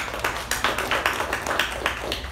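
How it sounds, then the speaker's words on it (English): Applause at a Toastmasters club meeting, a small group clapping close by in a steady, uneven patter that holds at moderate loudness throughout. "a big round of applause to Toastmaster Sharanye"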